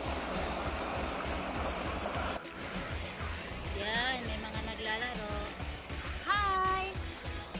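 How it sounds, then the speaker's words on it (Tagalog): River water flows steadily as a broad, continuous wash, with a voice talking over it and brief tonal sounds partway through. "Ito yung ilog."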